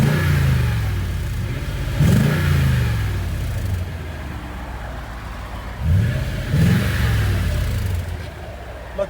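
A Toyota Tundra Platinum 5.7L i-Force V8 with an aftermarket exhaust and turndown tips revs several times, giving deep rising roars over a steady idle rumble, loud and close, in two pairs of blips.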